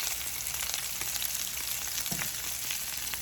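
Salmon fillet sizzling in a hot pan, cooking toward medium, with a steady close crackle and spatter and brief pops, no voices.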